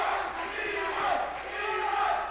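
A boxing arena crowd chants a fighter's name in unison, a rhythmic, sustained roar of many voices filling the venue, moderately loud and continuous.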